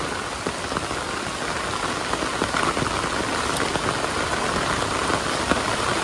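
Steady rain pours down over a Bengali village, a dense continuous hiss with scattered individual drops pattering on surfaces, close and fairly loud throughout with no voices.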